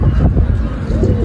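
Pigeons coo in low, soft repeated pulses that run through the whole short stretch, steady and fairly close, with no talking over them.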